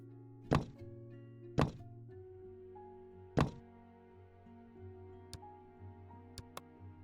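Walls are demolished in the hospital-building game Project Hospital, heard as three sharp, fairly loud thunks with a ringing tail, followed by a few lighter clicks over a quiet sustained game tone.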